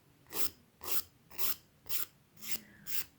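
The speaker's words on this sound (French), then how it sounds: "je vais encore un tout petit peu limer, mais là je vais vraiment y aller très doucement" A nail file rasping over gel nails during at-home gel removal: six slow, gentle back-and-forth strokes at an even rhythm, close to the microphone and fairly soft, with no talking.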